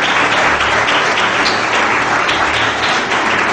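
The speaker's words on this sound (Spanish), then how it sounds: "Denle un fuerte aplauso a Jesús." Loud, sustained applause from a church congregation during a Spanish-language sermon closing a series on Hebrews, dense clapping filling the whole stretch with no talk over it.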